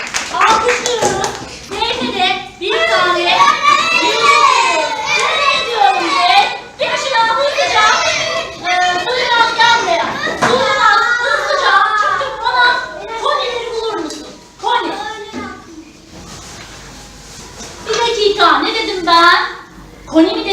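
Schoolchildren clap together in a classroom during a geometry shape-finding game, a burst of clapping mixed with lively children's voices and a teacher talking throughout.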